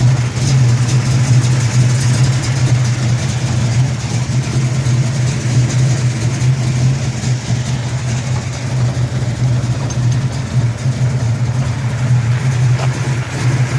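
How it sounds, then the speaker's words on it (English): A 1971 Dodge Super Bee engine idles steadily and loudly in a parking lot, a constant low rumble that holds without revving for the whole stretch. "Engine's been running another 7 or 8 minutes here in the parking lot."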